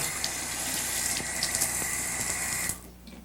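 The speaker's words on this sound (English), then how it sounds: "there's an automatic faucet" An automatic faucet in a home bathroom with a bathtub and walk-in shower runs water in a steady close hiss and splash, with no voices, then shuts off abruptly.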